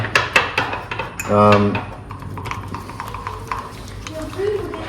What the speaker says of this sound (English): I mix the cream up nice and well with the coffee.